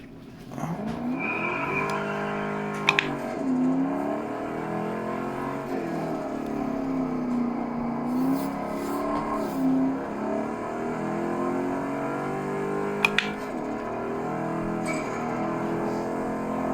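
Race car engine in a sim racing game on a Logitech G Pro wheel, a steady loud drone rising and falling through gear changes, with a couple of brief sharp clicks and no talk.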